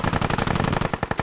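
A mounted machine gun in a military video game fires a rapid, rattling burst of loud, evenly spaced shots that tightens and sharpens toward the end.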